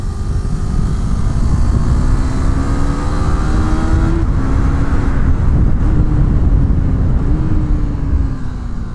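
A 2019 KTM Duke 390 motorcycle ridden at speed, its engine a steady, loud drone whose pitch climbs and then dips sharply twice as the rider drops two gears before a tight corner, with constant wind rush throughout.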